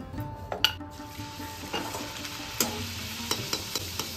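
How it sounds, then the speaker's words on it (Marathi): Puris deep fry in hot oil for a festive offering. A steady sizzle runs beneath repeated sharp taps and clinks of a metal utensil against the pan, close and unspoken. "अशा रीतीने सगळ्या पुऱ्या पटापट आधी तळून घेतल्या."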